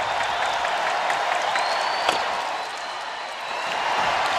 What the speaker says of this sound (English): this Predators crowd that was quieter in Game 3 than right now is on their feet